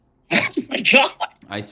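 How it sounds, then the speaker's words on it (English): One loud, abrupt sneeze at the start, followed at once by a person speaking in an exclaiming voice. "When I sneeze large."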